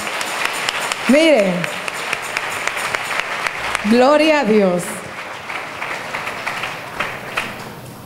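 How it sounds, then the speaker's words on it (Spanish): Applause from a congregation at a women's church retreat, a steady patter of clapping underneath loud, excited voices and shouts of praise. "Den un aplauso fuerte al Señor."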